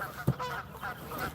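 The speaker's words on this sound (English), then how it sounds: "Yeah, geese are going crazy." Geese honk repeatedly at a fishing spot by the water, the calls moderately loud and somewhat distant, coming in an uneven series against a steady outdoor background.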